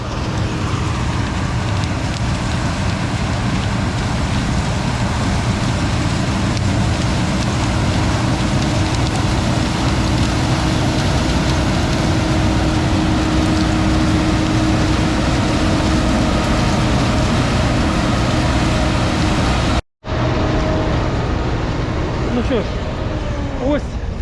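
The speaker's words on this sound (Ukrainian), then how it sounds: "Класний комбайн, любо подивитися." Combine harvester engine running steadily during a sunflower harvest, a loud continuous broadband roar with low rumble that holds nearly unbroken, briefly cutting out once near the end before resuming.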